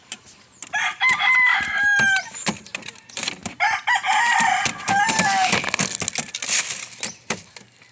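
Chickens cluck and squawk busily up close at feeding time, with a rooster crowing amid scratching and pecking noises, a lively, uneven chorus.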